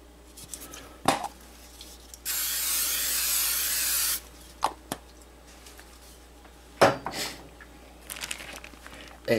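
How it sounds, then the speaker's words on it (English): Cooking spray oil sprayed into a pan before making a mozzarella cheese omelet, a single steady hiss lasting about two seconds, close and clear, framed by light clicks and kitchen handling noises. "A little cooking spray oil."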